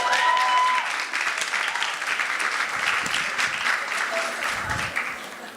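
An audience at a live interview event applauds steadily, a dense wash of clapping that holds for several seconds before tapering off, with no voices over it.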